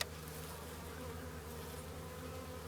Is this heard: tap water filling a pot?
no